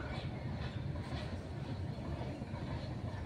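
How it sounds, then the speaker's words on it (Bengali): A train rolls past close by at sunrise, a steady, dense rumble of wheels and carriages that holds even and loud throughout. "এই দেখো এই যে ট্রেন যাচ্ছে"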